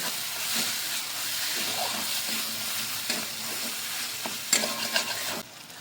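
Garam masala and ground spices sautéed in a pan for an eggplant bharta, a steady hissing sizzle with occasional spatula scrapes and knocks growing louder toward the end, close and without speech.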